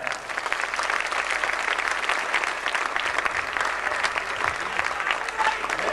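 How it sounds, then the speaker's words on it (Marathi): Loud, sustained audience applause from a crowd at a stage show, dense clapping filling the whole stretch without pause. "त्यांच्यासाठी एकदा जोरदार टाळ्या"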